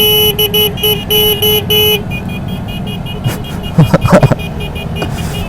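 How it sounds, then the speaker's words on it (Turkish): Short car horn toots repeat in a rhythmic pattern over steady engine and road noise in a vehicle convoy, driving in fourth gear at about 40, followed by a few brief louder bursts. "Şimdi bak korna akımı başlatacağım."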